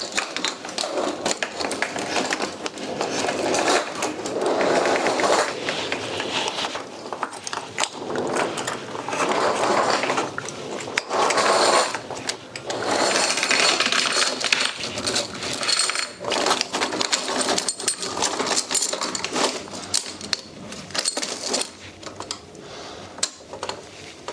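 Metal tracks being fitted onto a 1/6 scale Panzer IV model clink and rattle in quick irregular bursts, with small links tapping and scraping nearby at a moderate level throughout.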